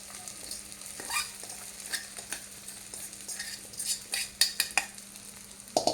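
Sabudana and green chillies stirred in a pan, a faint sizzle under repeated scrapes and soft clinks of a spoon against metal, close and quiet, with no talking.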